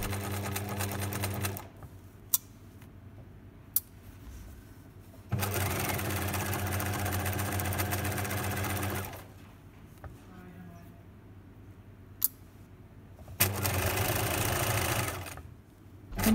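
A sewing machine stitches the hem of a wrap skirt in several runs of steady whirring, each separated by pauses with small clicks. Quiet speech continues throughout.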